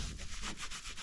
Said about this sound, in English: Just a little elbow grease